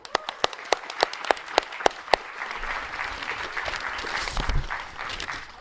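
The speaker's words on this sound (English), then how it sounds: "Let's give a warm applause to Patrick's section." Audience applause at a university capstone festival, starting with a few sharp, evenly spaced single claps near the microphone, then building into a broader wash of crowd clapping that tails off.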